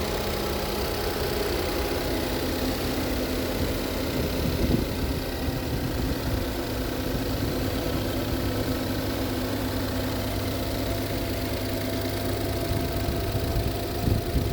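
A 2015 Ford Fusion Titanium engine idles with a steady, even mechanical hum and low vibration, recorded up close to the engine and continuing unchanged without talk.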